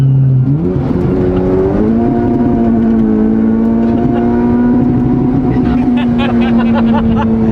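A tuned Honda Civic Type R engine with antilag revs loud and close, its pitch climbing and holding in a sustained drone, with a turbo blow-off hiss possible underneath.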